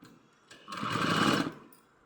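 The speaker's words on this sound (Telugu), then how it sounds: "ఇట్లా మలుచుకొని కుట్టుకుంటూ రావాలి" A sewing machine runs a quick burst of stitching through folded bedsheet cloth, about a second of steady mechanical whirring that starts and stops cleanly, close and fairly loud, with no talking.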